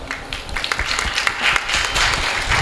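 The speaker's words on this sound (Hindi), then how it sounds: "मेरी बात अच्छी लगे तो तालियां जरूर बजाते रहना।" Lively applause from a gathered audience at a ceremonial welcome for Jain nuns, energetic clapping that rises and falls in waves with some distinct individual claps close by.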